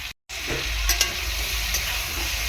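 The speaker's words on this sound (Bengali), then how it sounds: "মোটামুটি আমার কষানো হয়ে গিয়েছে সবজি" Vegetables sautéing in a pan with a steady close sizzle and a few light utensil clinks after a brief cut at the start, no voices.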